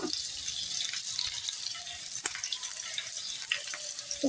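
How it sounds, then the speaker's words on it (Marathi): Finely chopped garlic fries in oil for besan bhakri, giving a steady soft sizzle with faint crackles and a couple of brief clinks. There is no talking. "बारीक कट करून घेतलेला लसूण जो आहे तो ऍड करणार आहोत आपण"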